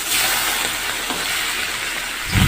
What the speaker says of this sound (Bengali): বাটা মাছ ভাজা চলছে।